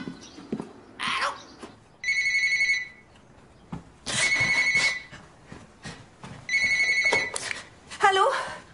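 A telephone rings in a French drama, three bright electronic bursts about two seconds apart, clear and close, with voices between and after the rings.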